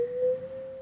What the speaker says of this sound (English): we should just hear a basic sine wave